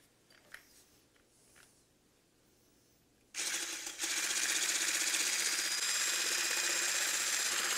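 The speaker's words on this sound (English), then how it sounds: "I have to beat the egg whites" Electric mixer beating egg whites for a pineapple upside-down cake, starting abruptly after a few seconds of quiet handling noise and then whirring loudly and continuously, close by.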